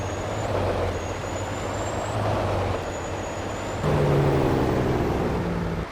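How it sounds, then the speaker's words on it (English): A heavy truck with a dolly trailer in Farming Simulator 22 rumbles with a loud, steady low engine drone as its exhaust (Jake) brake works, with a pitch shift partway through. No one speaks. "Has the exhaust brake, or the Jake brake as it's called."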